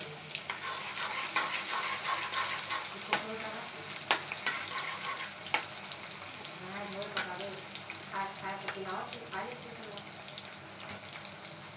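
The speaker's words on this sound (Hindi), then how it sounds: "प्याज से मैंने छौंक दिया।" Onions sizzle and crackle in hot oil with scraping stirs and occasional clinks, a busy continuous frying sound close up.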